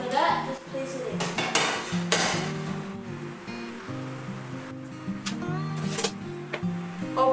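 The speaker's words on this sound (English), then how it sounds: "put the pizza on the tray and then put it in the oven" A metal pizza tray is slid into an oven preheated to about 220 °C, giving scattered clattering metallic knocks and scrapes close by over steady background music.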